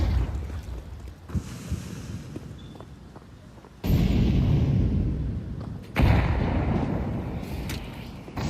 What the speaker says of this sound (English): Oh, those nades. They do some serious damage.